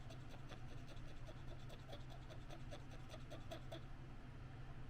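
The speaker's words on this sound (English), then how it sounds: "So you take your Q-tip, the alcohol, and you rub these contacts." An alcohol-soaked Q-tip rubs the contacts of a SNES controller circuit board in a quick, even series of close, faint scratchy strokes over a low background hum.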